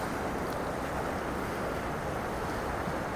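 Strong water current rushing at the estuary mouth at Thottappally, a dense continuous roar of moving water mixed with wind buffeting the microphone, loud and unbroken.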